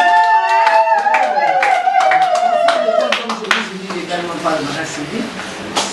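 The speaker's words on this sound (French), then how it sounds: "Merci, on applaudit." A crowd claps warmly at a steady pace at a civil wedding ceremony, under a sustained musical tone and some talk, the applause carrying through to the end.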